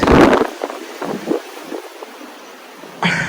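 Strong wind buffets an exposed allotment plot, with a loud gusting burst at the start, rumbling microphone-buffeting gusts in the middle and another blast at the end, close and unsteady.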